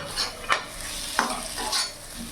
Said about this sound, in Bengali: এবার কেটে রাখা পিস পিসগুলো টমেটোগুলো এবার দিয়ে দেবো